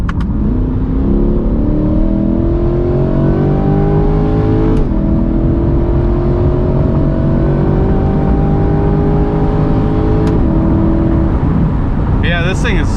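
A Corvette C8 engine revs repeatedly with both paddles pulled, climbing through rising, falling whines close by and loud, with brief clicks along the way.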